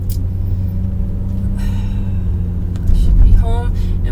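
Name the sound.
car driving away from stop sign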